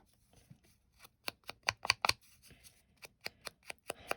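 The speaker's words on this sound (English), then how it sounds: "And if it's too big, just rip it." Paper scraps ripped by hand for a collage: a dozen or so short, close crisp tears and crinkles in an uneven rhythm, with no talk.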